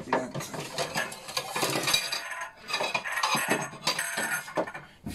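Plates and dishes clink and clatter against each other in quick, uneven bursts, close by, with no talking.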